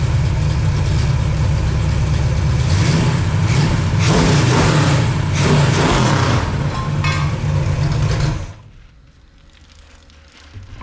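Pontiac 421 V8 with big-valve heads and a performance cam, running loud and rough up close for about eight seconds with throttle surges, then dropping suddenly to a quieter idle-like rumble.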